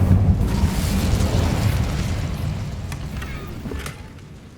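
Incendio fire spell cast in Hogwarts Legacy, a loud burst of roaring, booming flame that starts strong and slowly fades over several seconds.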